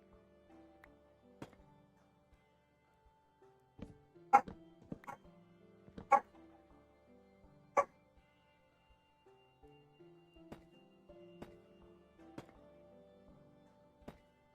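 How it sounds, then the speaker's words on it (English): A pet dog barking off-mic during a gaming session, several sharp, distant yips and barks scattered irregularly over about fifteen seconds, faint against a quiet background. "Sorry if y'all can hear my dog."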